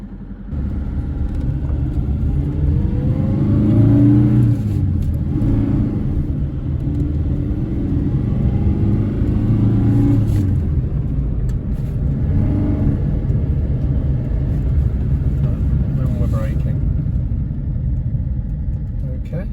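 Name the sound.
Series 3 Fiat 127 classic car driving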